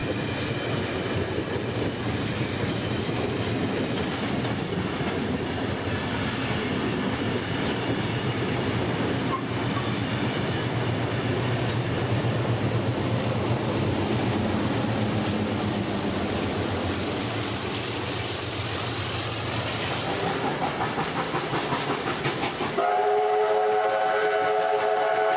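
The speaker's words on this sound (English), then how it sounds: "The 36 class loco and its train are now seen at Lura" A New South Wales 36 class steam locomotive hauls a passenger train past Leura in a long continuous rumble of chugging and rolling wheels, ending with a bright whistle blast.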